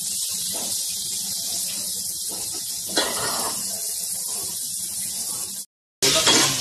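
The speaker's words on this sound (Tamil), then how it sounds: "பாருங்க கேரட் போட்டு வதக்கிட்டு இருக்கேன்" Chopped carrots sautéing in a pan for Muslim-style nonbu kanji, a continuous close sizzle with occasional stirring scrapes, cutting out briefly near the end before resuming.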